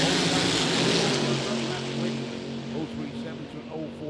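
Drag racing car engine at a California hot rod reunion event, a loud, sustained roar with a steady droning tone that eases slightly toward the end.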